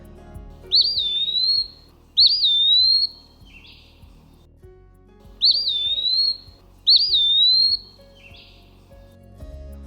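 An eastern wood pewee sings clear, slurred whistled notes in pairs, repeated twice with pauses, close and loud over a faint background.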